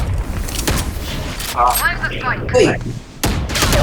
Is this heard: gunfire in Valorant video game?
yes